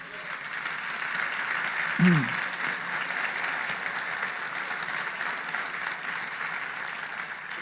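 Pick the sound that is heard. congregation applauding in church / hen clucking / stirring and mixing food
congregation applauding in church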